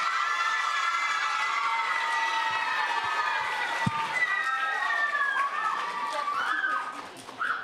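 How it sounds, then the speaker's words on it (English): Children cheering and shouting at a school citizenship event, a sustained chorus of high excited voices with scattered claps, loud and close, tapering off near the end. "So let's give them a round of applause"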